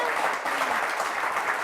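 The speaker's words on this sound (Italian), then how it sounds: "Un applauso a Claudio Romanzini." A studio audience at a televised Italian quiz show breaks into steady, continuous applause that stays full and even throughout, close and fairly loud.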